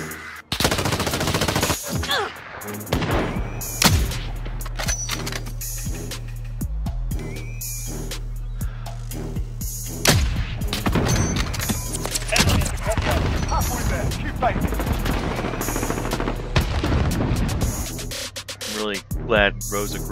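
Rapid bursts of Call of Duty gunfire, including friendly fire through a teammate, crackle loudly and almost continuously, with players talking over the shooting throughout.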